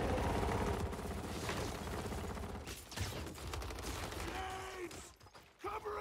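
Rapid gunfire and mechanical clatter from the video game Gears of War 4, loud and dense at first, thinning into scattered bursts and shouts near the end.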